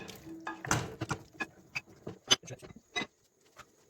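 A spoon stirs pearl onions and meat stew in a pot: quiet, scattered knocks and soft scrapes come in an irregular series, then fade to near silence near the end.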